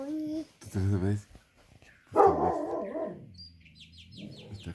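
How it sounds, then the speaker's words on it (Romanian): Dog barking in short bursts, mixed with voices talking nearby and some chirpy bird calls toward the end. "Uite acolo cum latră"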